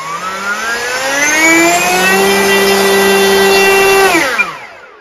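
A small electric motor on a Mini Pronto model airplane runs up for a thrust test: a loud, steady propeller whine climbs in pitch, holds for several seconds, then winds down at the end, with no voices.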